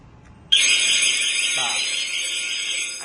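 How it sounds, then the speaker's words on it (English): A fire alarm tied into an access turnstile system goes off suddenly and keeps up a loud, steady high-pitched electronic tone, with mechanical movement faintly in the background. "And there will be alarm sound."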